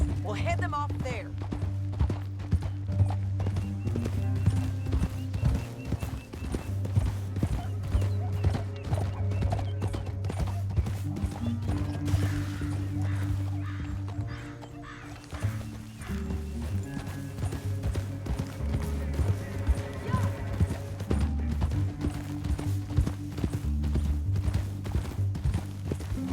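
Horse hooves clop in a steady galloping rhythm in the Red Dead Redemption 2 video game, under continuous music and game ambience, with a brief crash partway through.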